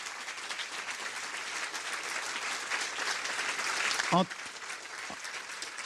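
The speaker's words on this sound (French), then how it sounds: "je voudrais que vous remerciez tous par un tonnerre d'applaudissements Véronique Anger" Steady, dense audience applause fills a forum hall, continuous and moderately loud for several seconds with a brief louder moment near the end.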